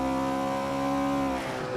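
A classic GT race car in Assetto Corsa howls at high revs through Abbey corner at Silverstone, a loud, steady harmonic engine note that drops and fades as the driver lifts off the throttle near the end.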